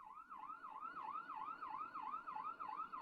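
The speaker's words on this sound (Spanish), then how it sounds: "Una ambulancia." A wailing ambulance siren cycles up and down steadily, heard alone and fairly faint, as if from a short distance.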